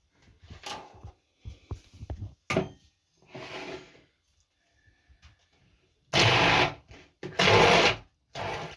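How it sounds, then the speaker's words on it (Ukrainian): Short bursts of a loud, whirring blender mixing batter, two strong pulses near the end after a few brief clatters and rustles. "Так, зараз переб'ю блендером."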